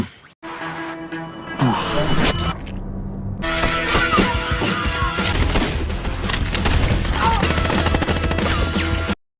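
Chaotic loud crashes and rapid bursts of gunfire in a shootout, with shattering impacts, booms and a dense roar over a music-like backdrop.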